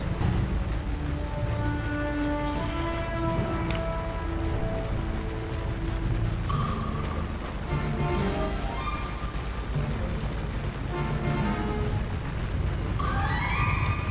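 Horses whinny and neigh repeatedly amid a continuous, loud battle din in Mount & Blade II: Bannerlord, with Vlandian tier-one troops fighting; several neighs stack over the roar, some drawn out, others short, with a sharper cry near the end.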